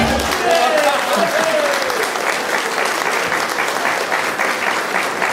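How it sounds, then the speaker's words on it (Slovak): Applause from a village ball audience greeting the mayor, a dense, loud, sustained clapping filling the whole stretch with a brief voice at the start. "potleskom privítajte starostu obce pána Slavomíra Zaornackého"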